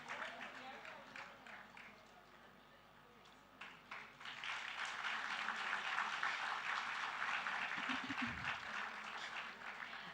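An audience at a school Founders' Day awards ceremony breaks into applause and cheering, starting faint then swelling into dense, sustained clapping across a large hall, with a presenter's amplified voice heard beforehand.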